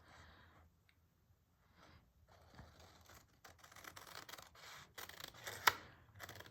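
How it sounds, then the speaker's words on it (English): Close, quiet snipping and rustling as large scissors cut through paper in several uneven strokes, with a sharper snip near the end. "I like to use bigger scissors on these bigger cuts."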